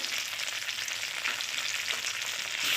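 Ground cumin, coriander, chili and turmeric fry in a pan for prawn malai curry, giving a close, continuous sizzling hiss with light stirring throughout.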